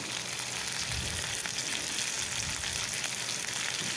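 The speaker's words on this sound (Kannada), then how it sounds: "ಇದರಲ್ಲೆಲ್ಲ ಹಸಿ ಸ್ಮೆಲ್ಲೆಲ್ಲ ಹೋಗಬೇಕು, ಚೆನ್ನಾಗಿ ಫ್ರೈ ಮಾಡ್ಕೋಬೇಕು." Eight or nine garlic cloves and curry leaves in hot oil in a pan give a dense, continuous close sizzle and crackle that stays loud and even throughout, with no speech.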